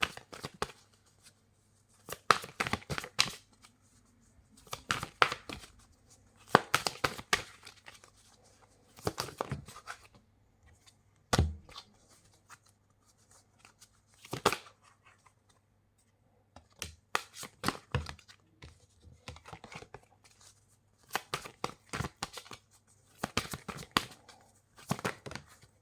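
Tarot cards are shuffled by hand in repeated short bursts of rapid riffling and flicking, separated by brief pauses throughout, close and crisp with no voices.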